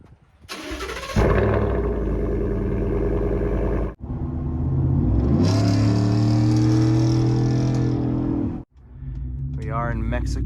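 A 2020 RAM truck drives at about quarter throttle, its engine a loud, close, steady drone that climbs in pitch midway, with two short breaks in the sound.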